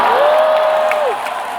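Crowd applause and cheering for rapper Nic Tsui at a live hip hop concert, a dense steady wash of clapping with a sustained whistle-like tone running through most of it.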